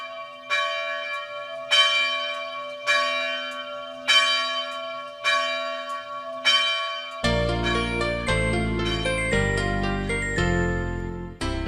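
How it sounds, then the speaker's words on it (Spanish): A church bell in Soria tolls slowly and mournfully, five or six evenly spaced strikes ringing out, then a denser run of overlapping bell peals. "mientras suena lastimera la campana de la iglesia"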